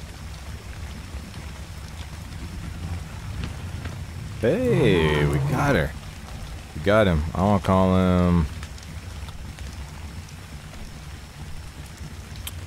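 Rain falls steadily in the video game Ark, a constant broadband hiss of drops running throughout, while someone talks over it in two short bursts midway.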